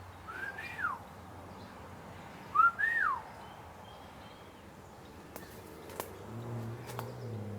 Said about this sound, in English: Do you guys have compatible whistles?